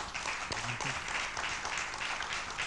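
Studio audience applauds during a Congolese television broadcast, a dense steady patter of clapping at moderate loudness, with a voice briefly audible under it.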